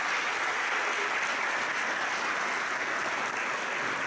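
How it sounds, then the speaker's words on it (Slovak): An audience at a Christmas concert in Teplička nad Váhom claps steadily, a dense, sustained wash of many hands filling the hall without a break and no speech over it. "A poprosím vás o potlesk"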